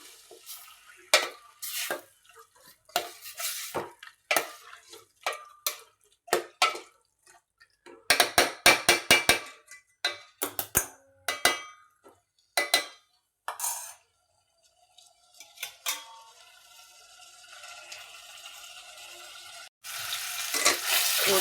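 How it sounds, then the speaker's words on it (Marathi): Mutton for Kolhapuri mutton curry stirred as it fries in a pan, with repeated sharp scraping and clattering strokes over a sizzle that grows louder toward the end, close and without talk. "थोडं पाणी सुटेपर्यंत आपण हे सर्व हलवून घेणार आहे।"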